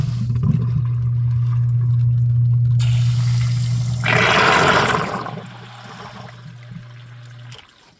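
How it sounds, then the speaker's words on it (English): Water flushed out through the drain lines of a crawl space perimeter system with a check valve, a steady rushing flow that swells louder midway and then tapers to a softer trickle near the end. "They got a check valve this way as we flush this water out."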